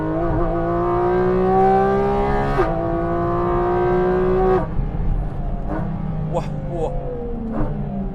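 A Porsche GT4 RS accelerating hard on an Italian mountain road, its engine note climbing steadily in pitch through two gear changes before easing off, loud and close throughout.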